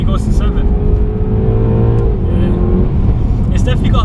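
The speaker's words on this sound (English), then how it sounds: "I was revving up to 6." A 2018 Mercedes-AMG E63 engine revs hard and loud to about 6,000 RPM, its pitch climbing and holding high before dropping, continuous and close throughout.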